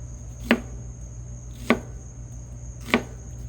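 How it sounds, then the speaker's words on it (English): A knife chops a Vidalia onion into skewer-sized pieces in three crisp, evenly spaced strikes about a second apart, close and distinct over a faint steady hum. "I'm going to just cut these into pieces for skewers"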